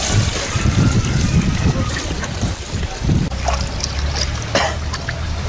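Sloshing and splashing as 2.5 kg of urea is stirred into 50 litres of water in buckets to make a solution for treating maize stover in Muzaffarpur, heard under people talking outdoors.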